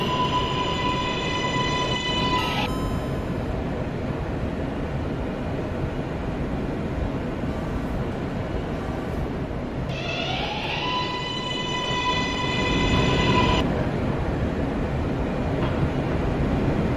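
A local subway train heard from inside the car, with a steady loud rumble of wheels and motors throughout, and high electronic tones rising and falling near the start and again later, as at a station departure.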